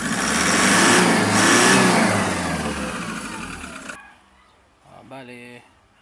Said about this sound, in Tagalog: bumalik na yung power ng makina